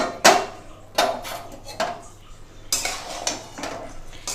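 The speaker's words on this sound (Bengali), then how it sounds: "দিয়ে এবার একটু ভালো করে নেড়েচেড়ে নেব।" Marinated mutton being stirred in a pan with fried onions for a Bengali mutton curry, a spoon scraping and clinking against the metal in several separate strokes, close up, with no voices.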